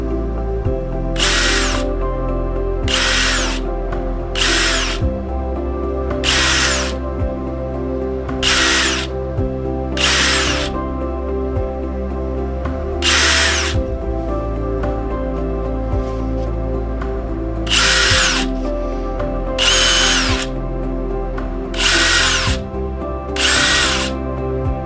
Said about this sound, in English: I'm actually using the smallest drill I have just because it don't require much power